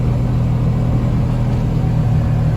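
A Polaris RZR XP 1000 side-by-side with cowl induction runs in warm weather, its engine giving a loud, steady, continuous low rumble close by with no talking.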